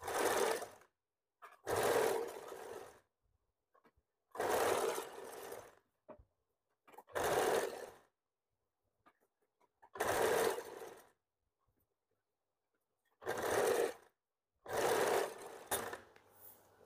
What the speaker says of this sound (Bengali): আমরা প্রথমে মেশিনে সেলাই করে নিই সবসময়,